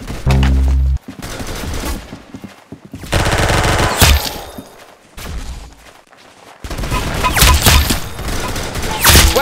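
Gunfire in the Roblox video game Arsenal, loud close bursts of rapid automatic shots in several clusters separated by short quieter gaps, with game sounds between the bursts.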